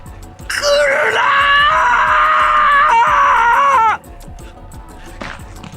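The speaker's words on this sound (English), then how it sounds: "so instead, he screamed." A man screams in an audiobook narration, one long, loud, anguished wail lasting about three seconds that ends abruptly, set over a low rumbling background.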